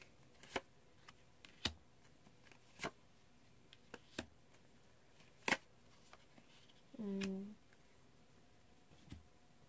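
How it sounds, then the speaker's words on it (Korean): Tarot advice cards are handled and drawn in a quiet room, with several sharp isolated snaps and flicks spaced about a second apart and one brief soft shuffle, close and fairly faint. "자, 조언 카드 한번 뽑아볼게요."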